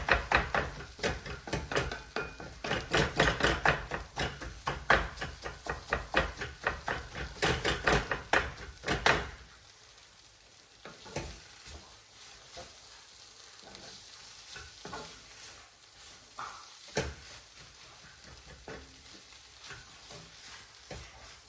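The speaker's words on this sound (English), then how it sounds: "So Kothu means you smash it like this." Veg kothu paratha being smashed and mixed in a pan with a metal spatula, rapid loud clanging chops over sizzling for several seconds, then slower scattered scrapes and taps against a quieter fry.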